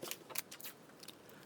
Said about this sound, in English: So we go cut out every single part of the bow.